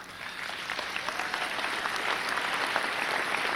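Sustained audience applause at a university commencement ceremony, a dense, steady wash of many hands clapping that holds at an even level, with no talk over it.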